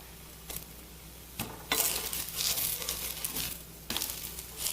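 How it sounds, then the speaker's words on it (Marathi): Mixed dal dosa roasting on a hot pan, a soft crackling sizzle with a few brief scraping stirs and pan clatters, growing louder midway, with no talking. "असे दोन्ही बाजूनी आलटून पालटून छान हे भाजून घ्या"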